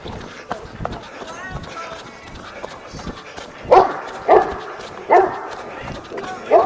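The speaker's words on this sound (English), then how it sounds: "Very noisy dog." A loud, noisy dog barks in a burst of four or five sharp barks spaced about half a second apart near a hiking trail, following quieter background activity and movement.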